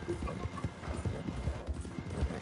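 Horse hooves clip-clop steadily in the video game Red Dead Redemption on PS5, a close, rhythmic run of hoofbeats with a brief whinny.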